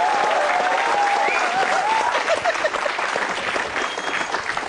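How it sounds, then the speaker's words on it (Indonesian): Stage-show audience gives a loud, dense round of applause for Jui Purwoto, steady clapping filling the whole stretch with a faint tone drifting through early on. "Tepuk tangan untuk Jui Purwoto"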